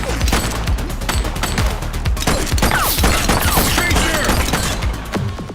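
A suspect opens fire in the police game The Precinct, producing a rapid, loud stream of close gunshots cracking in quick succession over a busy street soundscape, sustained almost without pause.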